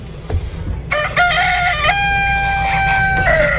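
A rooster crows loudly and close by, one long drawn-out call with a steady low hum underneath.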